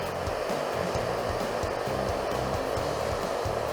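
A steady, loud blowing whir of a hair dryer running continuously, with a low rumbling undertone throughout.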